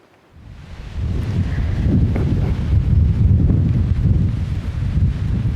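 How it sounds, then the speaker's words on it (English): Strong wind blows outdoors across a garden, buffeting the microphone with a low, roaring rumble that builds within the first second and stays loud and continuous, with faint rustling on top. "so the wind is blowing like crazy right now"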